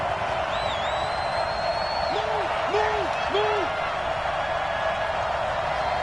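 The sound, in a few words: stadium crowd cheering in a PS4 football video game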